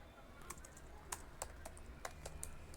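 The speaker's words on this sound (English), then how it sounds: "I'll just type here fonts" Quiet, close keystrokes on a computer keyboard tap out a short word in an irregular patter, faint against low room noise.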